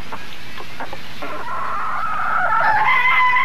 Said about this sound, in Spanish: Están entrando cuatro gallinas al círculo.